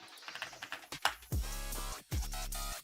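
Rapid computer keyboard typing in uneven bursts of key clicks up close, followed by two longer sustained mechanical noises, with no talking.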